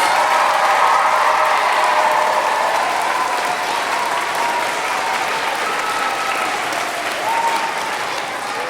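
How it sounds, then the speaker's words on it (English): Children applaud their teachers in a concert hall at Snape Maltings, a dense, sustained clapping from a large crowd that fills the room and fades slightly over several seconds. "can you give a big round of applause to your teachers?"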